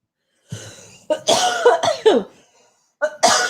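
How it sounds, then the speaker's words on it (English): Several sharp coughs from one person, close and loud, coming in two clusters separated by a brief pause. "You made me cough."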